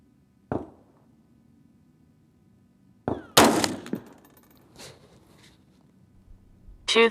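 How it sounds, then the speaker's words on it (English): Rifle shots fired with 224 Valkyrie factory ammunition: a few sharp, separate reports at irregular gaps, one loud burst with a short ringing decay and others duller, over a quiet background. "Let's get to shooting."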